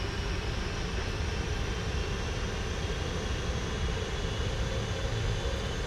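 Jet engines of a British Airways Boeing 747 in the PMDG flight simulator spooling up while taxiing, a steady broad roar with a faint high whine holding even throughout, moderately loud, with no voices.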